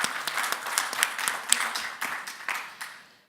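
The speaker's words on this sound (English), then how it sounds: "So let's give them a welcome applause." Audience applause welcoming panelists at an education technology conference, a brief round of many hands clapping with some sharp close claps, thinning and fading away within a few seconds.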